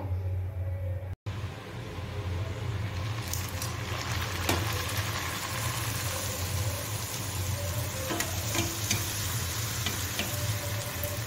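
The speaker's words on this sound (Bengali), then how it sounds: "এবার তেলটা গরম হয়ে গেলেই ছেড়ে দেবো। তো চলো লুচি ভেজে নিই" Luchi, puffed Bengali flatbread, frying in hot oil in a home kitchen: a steady sizzling bubble with scattered sharp crackles and pops, close and continuous, with a low hum underneath.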